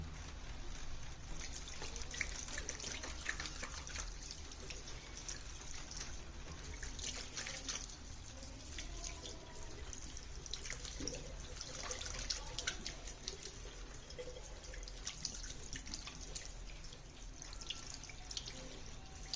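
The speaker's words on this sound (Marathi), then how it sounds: "साबणाचे हात पाण्याने धुवून घ्यावेत" Tap water runs steadily and splashes as soapy hands are rinsed beneath it, a continuous trickling wash with small drips, fairly quiet and close.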